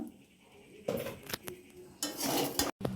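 Rice for pulao being stirred in a metal pot, a spoon scraping and clinking against the sides in a few quick, close strokes between short quiet gaps.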